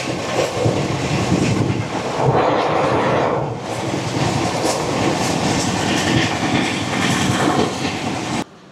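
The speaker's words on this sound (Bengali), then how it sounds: "হামসাফার এক্সপ্রেস এই মুহূর্তে এসে পৌঁছালো তার যাত্রাপথের 10তম স্টেশন বারসই জংশনে" Humsafar Express on the Sealdah to Jalpaiguri Road run rolls into Barsoi Junction with a loud, continuous rumble and wheel clatter that swells midway, then cuts off abruptly near the end, with no talk over it.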